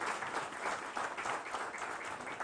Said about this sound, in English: Can you have a huge round of applause for Shri Unmesh Sharad ji?